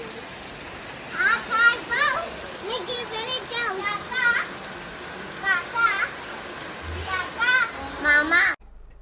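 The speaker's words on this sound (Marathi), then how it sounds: "पाऊस खूप मोठा पडतो आता" Rain pours steadily in a constant wash while children's voices chatter and call out over it in short bursts.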